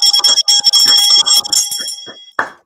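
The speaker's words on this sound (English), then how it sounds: "We ring the bell." A bell rings several times in quick succession, bright and loud with lingering metallic overtones, then one final strike that fades out alone.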